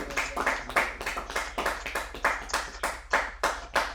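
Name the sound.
applause acclaiming the Lord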